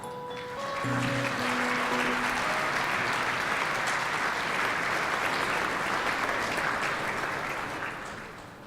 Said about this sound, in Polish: Brawa, gratulacje.